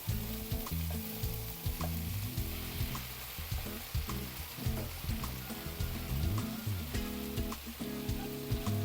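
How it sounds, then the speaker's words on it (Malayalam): Noodles hitting a hot pan and sizzling loudly, with a dense, close frying crackle and repeated stirring and scraping throughout, no talking. "ഇനി ഈ നൂഡിൽസ് ഇങ്ങോട്ടിടാം."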